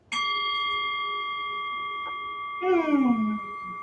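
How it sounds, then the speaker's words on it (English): A gong struck once at the start of a seated meditation service rings with a sharp attack and a long, steady shimmering sustain; a voice speaks briefly near the end over the fading tone. "You ring the gong"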